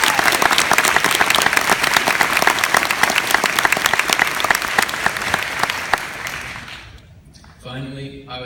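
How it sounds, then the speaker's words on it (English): A big round of applause at an iSchool graduation ceremony, with dense, loud clapping that fades out after about seven seconds, and then a speaker's voice begins. "So let's give them all a big round of applause."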